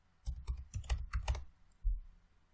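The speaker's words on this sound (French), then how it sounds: "Je vais devoir en plus écrire ici delete" Someone types the word delete on a computer keyboard: a quick run of crisp, close keystrokes in a quiet room, followed by one firmer final key press.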